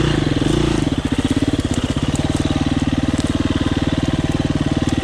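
A KTM 350 EXC-F enduro motorcycle runs on a new dirt trail: a loud, close single-cylinder engine that settles into a steady, rapid, pulsing idle after a brief higher-revving start, with no one talking.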